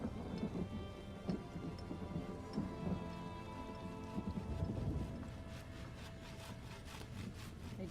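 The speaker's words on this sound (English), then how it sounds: "I do like the storms here." Steady rainfall and rumbling thunder from a storm in The Elder Scrolls Online, with heavy low rolls and crackles through the whole stretch, continuous and fairly loud with no talking.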